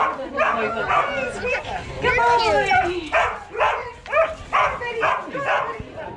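Excited sled dogs in a team of sixteen at an Alaskan demonstration in Skagway, a dense chorus of close, overlapping barks, yips and whining cries in rapid bursts.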